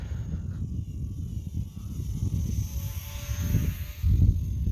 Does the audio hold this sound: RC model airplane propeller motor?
yes